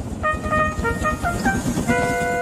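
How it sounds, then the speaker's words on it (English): Several short train whistle toots in an uneven sequence over a steady rumbling engine, fairly loud and close. "Then he heard a whistle."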